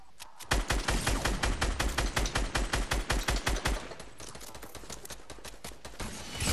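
Dense bursts of rapid automatic gunfire from a Fortnite match, loud and close, with rattling volleys running almost continuously before thinning into scattered shots.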